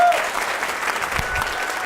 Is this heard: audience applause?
yes